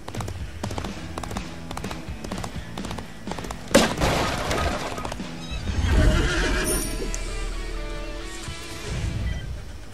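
Horses neigh and hooves clatter at a gallop during a horse race in the Disney Infinity video game, Lone Ranger setting, with a loud burst near the middle and steady game music and effects underneath.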